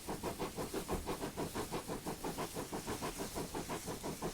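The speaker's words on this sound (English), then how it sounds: "I think it's sort of one of the original steam trains in the game." GWR Large Prairie steam locomotive in Train Simulator, chuffing steadily in a fast, even rhythm of exhaust beats with a continuous hiss, heard alone and at moderate level.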